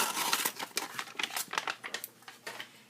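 Scissors cutting through origami paper nearby, a quick burst of crisp snips and crinkling rustles lasting a few seconds, with no voices.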